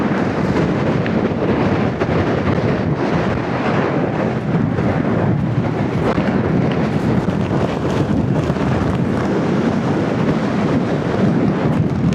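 Strong Patagonian wind gusts near Bariloche batter the microphone with a loud, continuous roaring rumble that surges and buffets without letup throughout.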